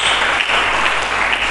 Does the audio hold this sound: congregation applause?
yes